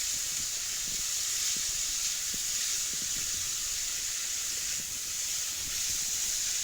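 Beets being stirred in a pan for Ukrainian red borscht give off a steady, bright sizzling hiss, with faint scraping taps from the stirring running underneath.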